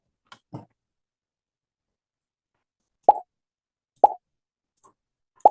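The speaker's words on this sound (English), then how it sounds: "Let's play the sound pop here." Pop sound effect in a Scratch clicker game: a soft blip, then three sharp, identical pops about a second apart, each short and clean against silence.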